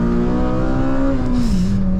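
A car engine over-revs after a money shift on an engine with forged internals, a loud, sustained high-pitched drone heard from inside the car that holds steady, then drops in pitch.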